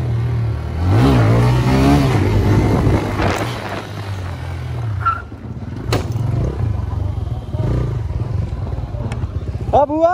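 A motorcycle revs hard while riding a wheelie held through three gears, its engine droning loud and close with rising pitch sweeps, and voices chatter underneath.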